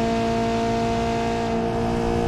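Two turbocharged cars race in BeamNG Drive, a Volkswagen Polo among them, with a loud, sustained engine drone and steady harmonic whine held at high revs throughout, no voices over it.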